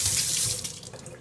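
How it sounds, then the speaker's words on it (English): Tap water runs steadily into a kitchen sink as almonds are rinsed, a close, bright hiss that dips and splashes a little toward the end. "what I'm going to do is I'm going to rinse those off"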